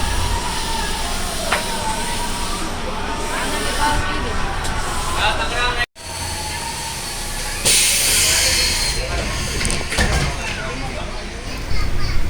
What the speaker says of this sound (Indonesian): Kereta mulai diberangkatkan dari stasiun Duri